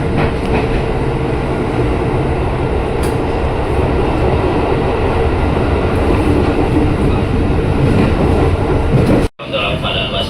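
A KRL commuter train bound for Bogor rumbles steadily at night, with a loud continuous rolling roar and rail noise filling the whole stretch, broken briefly near the end by a sudden drop, likely a door or gap.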